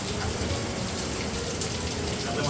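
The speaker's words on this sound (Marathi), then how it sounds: "मस्त बाहेर पाऊस पडतोय जोरदार" Heavy monsoon rain pouring down outdoors, a dense, unbroken hiss of water that holds steady and loud throughout with no breaks or other sounds.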